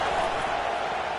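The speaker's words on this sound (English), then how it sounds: "Decibels rising as the crowd gets behind this defense on third down" A college football stadium crowd roars behind the defense on third down, a dense, steady wall of cheering with no clear voices standing out.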